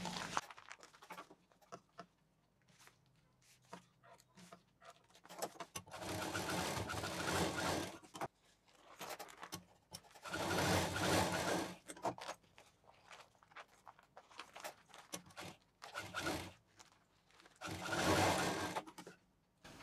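Sewing machine stitching a transparent bangle box, several close bursts of rapid motor whirring and needle chatter separated by quiet pauses and light handling noises.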